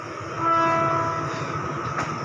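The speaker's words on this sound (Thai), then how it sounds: "เห็นไหมรถไฟไทยก็จอดรับผู้โดยสารที่มาช้า" Thai rapid train No. 112 stands stopped at a station to take on a late passenger, its engine droning steadily with a sustained horn-like tone, heard close up and without speech.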